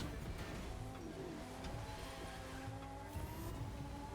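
Racing video game car sliding with tire squeal over a steady engine drone, continuous and fairly faint throughout, with no talk.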